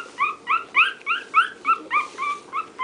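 A Shih Tzu puppy whimpers in a quick run of about ten high, thin whines, evenly spaced and close, with no other sound around them.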